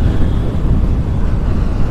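Motorbike accelerating on a road, a loud, rough low roar dominated by rushing wind buffeting close in, sustained with no clear pauses and no speech.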